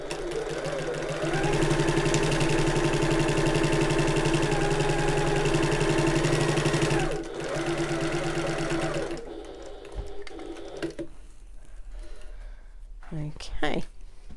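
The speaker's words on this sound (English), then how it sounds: "I'm going to sew all the way along the top." Near and fairly loud, a sewing machine runs steadily for about seven seconds while stitching along the top of a fabric bag, then stops briefly and resumes. Quieter handling noises and a speaking voice follow afterward.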